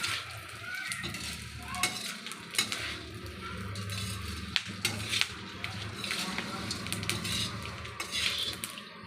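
Cardamom, mace, bay leaves and other whole spices dry-roasting in a pan with a little oil, soft sizzling under scattered metallic spoon clinks and scrapes, with a voice talking over it.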